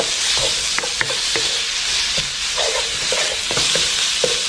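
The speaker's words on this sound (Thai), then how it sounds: "เราก็ลงเป็น หมูสับหรือว่าหมูบดของเราเลยนะครับ คั่วไปก่อนเลยนะครับ" Minced pork stir-fries with chili and garlic in a hot pan, a loud continuous sizzle up close, with scattered knocks and scrapes of the spatula stirring the meat throughout and no talking.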